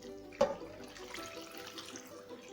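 Tap water runs steadily into a pot for a soup mixture while fish is prepared for steaming, with a brief splash or clunk near the start and a continuous close rushing flow throughout.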